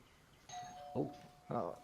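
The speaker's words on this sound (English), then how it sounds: "Who's ringing my doorbell? Ding dong." A doorbell chimes with a sustained tone, overlapped by short bursts of voices during a tabletop role-playing session.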